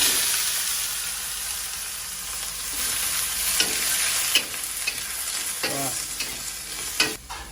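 Steady sizzling of vegetables stir-frying in a hot pan, with occasional scraping and clinks as they are stirred, continuous and fairly close.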